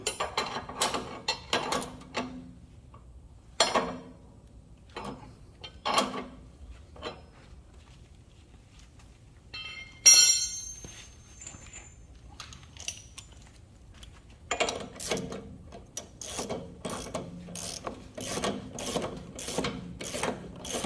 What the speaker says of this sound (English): then you can start tightening it either with your wrench or your ratchet